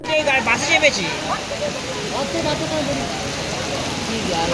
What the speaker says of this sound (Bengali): প্রচুর জোরে বৃষ্টি আসলো